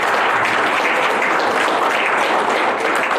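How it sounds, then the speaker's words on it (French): Steady applause from an audience at a community gathering in the Mississauga and Brampton area, a dense continuous wash of clapping that stays loud and even throughout with no voices standing out. "Un applaudissement s'il vous plaît"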